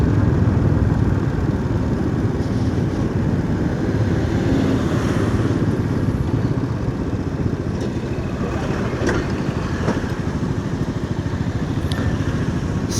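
Steady engine drone of a motorcycle on the move, with heavy wind rush over the microphone and no talking.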